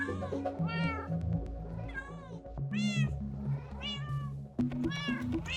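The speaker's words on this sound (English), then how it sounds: "As you can see, I have some white cats here." White cats in the Minecraft video game meow repeatedly at close range, several overlapping calls in a steady run, over a soft musical background.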